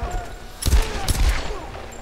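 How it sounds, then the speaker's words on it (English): Enemy gunfire in the 2013 Tomb Raider video game: two heavy, booming bursts of rapid shots over a constant rumble of combat noise, with a voice talking faintly underneath. "There's lots of incoming bullets"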